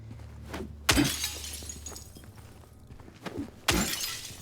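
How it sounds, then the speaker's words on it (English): Glass shattering in the Silent Hill 2 video game, two sharp loud crashes with scattering debris about three seconds apart, over a low droning ambient background. "Compliment my glass breaking."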